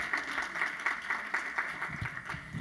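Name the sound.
audience applauding volunteers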